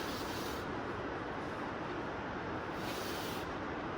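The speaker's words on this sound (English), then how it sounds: "it's raining really hard right now" Steady, dense hiss of heavy rain drumming on a metal building's roof, constant and enveloping with no gaps, heard alone.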